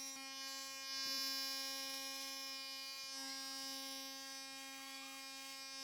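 An electric razor with a sharp blade running steadily close by during a shave, giving a constant faint buzzing hum with slight shifts in tone as it moves over skin.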